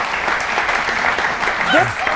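Dense studio audience applause on a 1994 TV talk show fills the clip as a steady wash, with a brief voice rising over it near the end.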